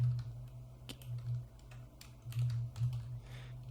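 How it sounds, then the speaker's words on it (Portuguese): Soft, close keystrokes tap out a command on a computer keyboard in quick irregular bursts, with a low steady hum underneath and no talking. "Se a gente digitar Symfony Requirement,"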